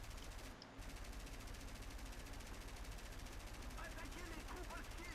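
Sustained machine gun fire in the video game War Thunder, a steady, loud rapid rattle running almost unbroken throughout, with faint talk underneath near the end.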